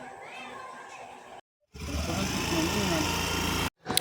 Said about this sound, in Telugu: మేమైతే స్కూటీ మీద వెళ్తున్నాం